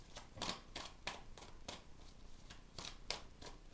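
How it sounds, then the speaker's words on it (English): Oracle cards being shuffled by hand in a tarot-style reading, a series of crisp papery riffles and flutters repeating in bursts about every half second, close and fairly quiet, with no voices. "I will shuffle 3 times."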